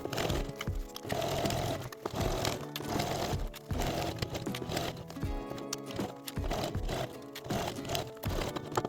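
A sewing machine stitches fabric for an evening clutch in short repeated bursts of rapid mechanical chatter, close and fairly loud, with brief pauses between runs.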